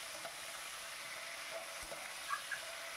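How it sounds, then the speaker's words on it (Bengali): Steamed cauliflower fries in oil in a pan for a vegetable pulao, making a faint, steady hiss of sizzling with a few soft ticks and pops and no talking. "এবার আমি এটা ভেজে নিচ্ছি।"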